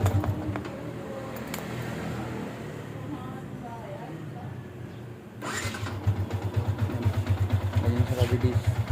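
A Yamaha Sniper 150 motorcycle engine cranks on a new starter motor and catches partway through, then settles into a steady, throbbing idle close by.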